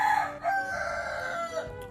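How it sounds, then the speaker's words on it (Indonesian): A rooster crows in the morning, a fairly faint, drawn-out tonal call that rises and trails off over about two seconds, heard alone without speech. "Ih, udah pagi. Suara ayam."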